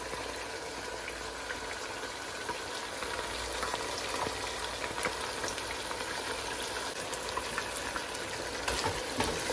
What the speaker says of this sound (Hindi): ये तकरीबन 5 मिनट भून चुकी है